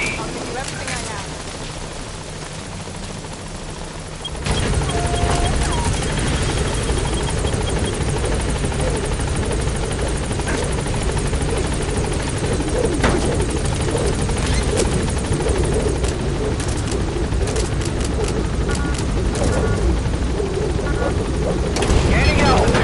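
A helicopter arrives at a landing zone in Metal Gear Solid V, its heavy rotor thump swelling suddenly and then droning loud and continuous, with a radio voice talking over it.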